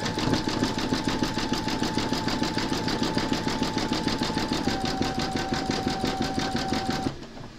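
A Brother embroidery machine stitches the arm of a Santa's tunic, a fast, even mechanical chatter with a steady whine that drops slightly in pitch partway through, close and alone before stopping near the end.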